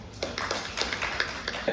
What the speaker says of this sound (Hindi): वाह यार, तालियां बजाओ फिर से अपने लिए